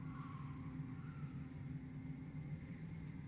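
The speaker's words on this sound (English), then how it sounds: "You can hear those tires hitting a bit." An airliner's tires rumble along the runway during a takeoff roll in a Roblox flight simulator game, a faint, steady low rumble with a soft engine drone above it.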